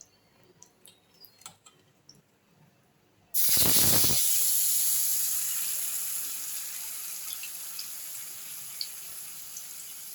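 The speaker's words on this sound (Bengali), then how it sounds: "আমি একটু জিরা ফোড়ন দিয়ে দিয়েছি সাদা জিরে এখন আমি আগে আলুগুলাকে দিয়ে দিলাম" Potatoes drop into hot oil with white cumin. A sudden loud burst of sizzling hiss erupts after a few quiet clinks, then settles into a steady, slowly fading fry close by.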